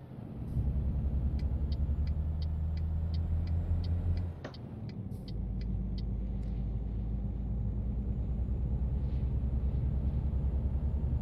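A truck engine in Euro Truck Simulator 2 with ProMods, rumbling steadily and loud with a sharp drop and dip around a downshift, plus a series of regular indicator ticks.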